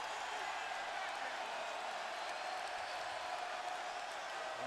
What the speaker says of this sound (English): the crowd enjoys that air ball